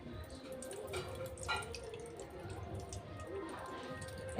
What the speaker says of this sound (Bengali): এবার কড়াইতে দিয়ে দেবো আমি সাদা তেল।